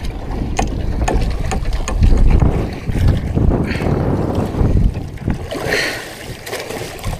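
Boat engine running at sea off Surigao, a steady broadband rumble with wind buffeting the microphone and splashing water, loud and continuous throughout.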